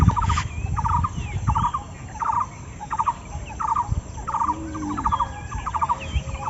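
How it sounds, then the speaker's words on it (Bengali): A bird calls repeatedly from a tree branch in a village, short bursts of chirpy notes recurring at a steady rhythm over soft rustling background, moderately near, with no talk. "এই পাশে একটা ডালে পাখি ডাকছে"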